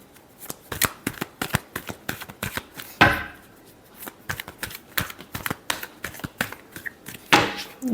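Tarot cards riffled and shuffled in repeated quick bursts of crisp flapping, close and fairly loud, with two heavier riffle cascades standing out and no talking.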